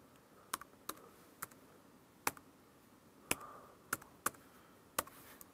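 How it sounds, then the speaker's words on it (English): Sharp, separate keystrokes on a computer keyboard as a number is entered into customs case-file software, irregularly spaced taps with quiet gaps between them. "Now that I've typed in the unique number"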